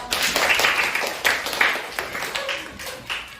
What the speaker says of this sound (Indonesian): Tepuk tangan untuk Selo